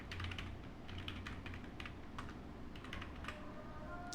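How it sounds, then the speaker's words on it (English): Someone types an email address on a computer keyboard, a quiet run of irregular key clicks in small bursts over a low steady room hum, with no talking. "I'm just going to type in my email here."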